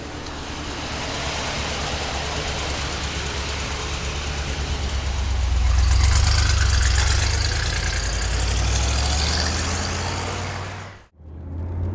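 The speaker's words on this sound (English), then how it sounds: "All right, it's 68 Corvette time." A 1968 Chevrolet Corvette's engine idles steadily with a deep, rumbling low end and broad wash, swelling a little louder midway before cutting off abruptly near the end.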